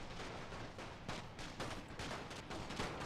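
Rapid bursts of machine gun fire mixed with other gunfire and distant artillery in a World War One battle in The Great War Total War mod, dense and continuous with sharp cracks throughout.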